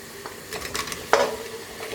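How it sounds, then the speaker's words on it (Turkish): Carrots sauté in hot oil in a pan while being stirred for a Turkish ekşili köfte, a soft sizzle with scraping stir strokes and one brief sharper clatter, close and alone. "hemen havuçları da ilave edip beraberinde kavuracağım"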